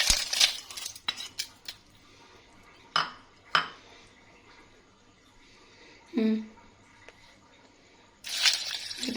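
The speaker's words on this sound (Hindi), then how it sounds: "इसमें तकरीबन ये 1 कप बर्फ जाएगी।" About a cup of ice cubes goes into a blender jar for an apple banana smoothie, giving a few sharp clinks and clatters at uneven intervals with quiet gaps between.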